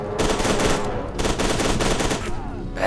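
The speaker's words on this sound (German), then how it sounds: "Ich liebe es dann auf die Lufttanks schiessen" Rapid automatic gunfire in the video game F.E.A.R. 2, loud dense bursts of shots with short gaps between volleys, close and sustained over a few seconds.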